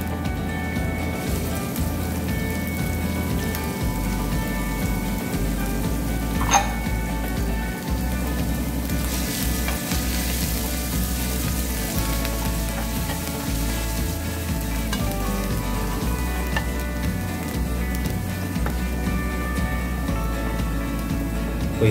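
Chopped garlic and ginger fry in hot oil for a chicken and green peas dish, a loud, dense, continuous sizzle with occasional stirring scrapes, close and steady throughout.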